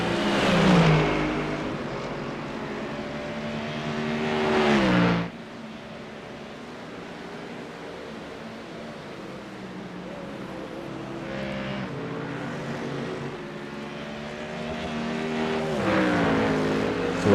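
GT3 race cars lapping Monza in iRacing, heard as a loud sustained engine drone that rises in pitch through upshift sweeps, drops to a steadier hum, then climbs again as the cars accelerate, with no talk.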